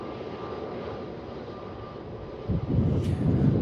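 A Qantas A330 taxis at Melbourne Airport, its engines a steady, moderately distant drone that swells louder near the end.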